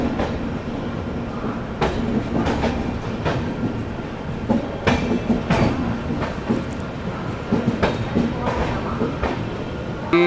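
The 14005 Lichchavi Express rolls into Anand Vihar Terminal, with a loud, continuous rumble from inside the train. Rhythmic clickety-clack wheel beats repeat over the rails throughout, and faint talk is barely audible beneath the noise.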